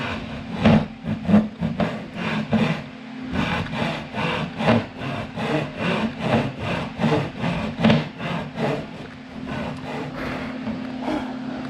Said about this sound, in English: you just kind of let the saw do the work